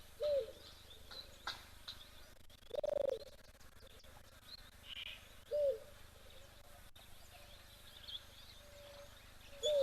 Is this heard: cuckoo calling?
yes